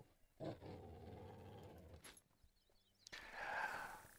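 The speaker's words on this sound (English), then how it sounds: "What are you growling at?" Low, rumbling dog growl lasting about one and a half seconds near the start, followed by a quieter gap and then a louder burst of mixed noise at the end.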